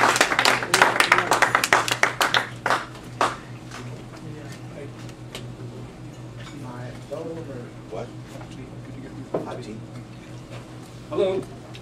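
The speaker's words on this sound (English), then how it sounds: "let's give a warm round of applause to David Ramsay Steele" Audience clapping for a speaker at a talk on how belief systems work, sharp claps loud at first then tapering into scattered claps, with someone speaking over them and a steady low hum underneath.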